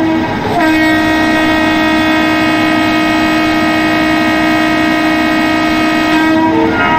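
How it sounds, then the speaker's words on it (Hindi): A long, loud, sustained horn from the Kalka Mail locomotive in Indian Train Simulator blares steadily for about six seconds at night, with rich harmonic tones, before cutting off. "तो हॉन्क मैं दे देता हूँ फटाफट।"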